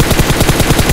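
Rapid automatic gunfire from the battle royale game PUBG on the Sanhok map, a steady stream of evenly spaced shots across the full second, loud and close with no talk over it.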